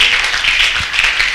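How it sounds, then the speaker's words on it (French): A church youth gathering breaks into loud, dense applause, a continuous close roar of many clapping hands with no pauses. "Nous acclamons très fort pour le Seigneur"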